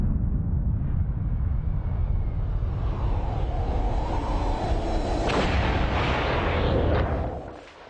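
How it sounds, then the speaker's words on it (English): A 1953 Soviet hydrogen bomb test sends out a huge, continuous low rumbling roar with rising bursts of crackle partway through, then fades away at the end. "On the 12th of August, the Soviets also explode an H-bomb."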